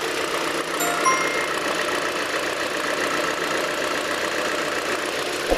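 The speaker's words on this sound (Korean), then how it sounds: "소나타의 엔진 소리도 들어보셨는데요" A Hyundai Sonata New Rise 2.0 Smart Special idling with the hood open, a steady, even engine hum heard up close, continuous and unchanging throughout with no voices.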